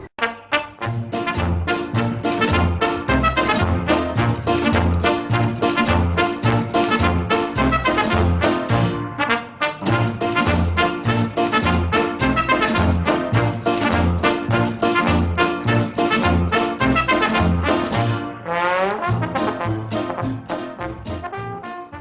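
Lively old-fashioned orchestral music from a restored soundtrack of a 1927–1928 Oswald the Lucky Rabbit cartoon short, bouncy and rhythmic with brass and percussion, briefly pausing before resuming with a brighter, busier passage.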